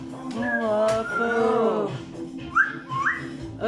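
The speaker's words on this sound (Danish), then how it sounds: "Øj, hvor du fløjt og flot" Pet parrot whistling loud and close, a sustained melodic tune with wavering notes followed by two short upward-swooping whistles.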